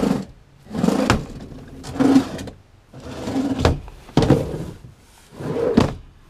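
Wooden box drawers in a 1987 Airstream Classic 345 vintage motorhome slide open and shut several times, each a rumbling wooden glide ending in a soft thunk, close by with no talk.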